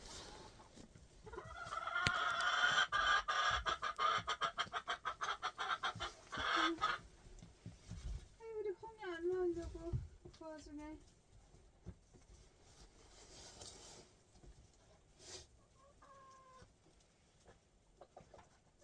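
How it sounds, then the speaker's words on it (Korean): Hens cluck and give drawn-out, warbling calls close by in a snowy countryside coop, in a few separate bouts amid scratching and rustling noises as they enter nest boxes to lay eggs. "이렇게 추운데도 닭들이 알을 낳으려고 알통으로 막 들어가고 있어요."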